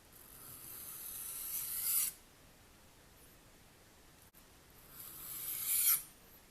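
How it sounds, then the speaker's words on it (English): A knife's front end is drawn across a sharpener in two long, close rasping strokes separated by a quiet pause, each swelling in intensity before stopping abruptly. "sharpen this front end a little bit. Push down on the end."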